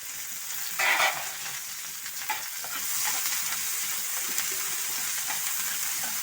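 Onion, tomato, capsicum, curry leaves and coriander leaves fry in hot oil, producing a loud, close, continuous hiss and sizzle with a burst of stirring near the start and no talking.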